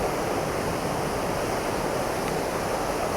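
Waterfall roaring as a dense, steady broadband rush, loud and unbroken throughout with no voices.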